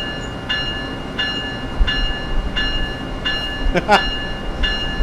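A train rolls along in a video game, with a steady rumble under a bright tone that repeats about every second and a rising squeal near the end, all at moderate level.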